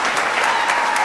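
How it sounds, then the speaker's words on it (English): Sustained audience clapping in a celebratory, long round of applause, dense and fairly loud, filling the space evenly without a break. "let me give him a long clap."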